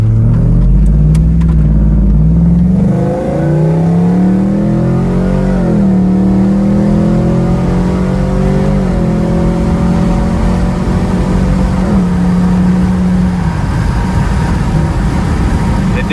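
Chevelle with a swapped LT engine driving, a loud close engine drone that climbs and shifts pitch through several gear changes as it accelerates, then settles into a steady cruise, with no talk.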